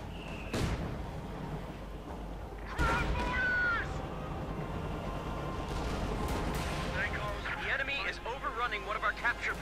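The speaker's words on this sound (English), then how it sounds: "Mortar rounds getting awfully close to the rifleman, but doesn't quite connect" Distant mortar and gunfire booms from a Company of Heroes 2 battle, several thuds and bursts scattered under ongoing commentary, with battlefield clatter filling the background.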